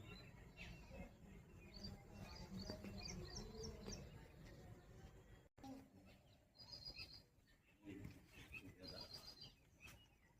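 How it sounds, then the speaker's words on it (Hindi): Birds chirp around an old Balram temple in Mandsaur, with repeated high, bright calls rising over a steady low background murmur, moderately faint and spread through the scene. "चिड़ियों की चहचहाटें यहाँ पर आपको सुनने को मिलेगी"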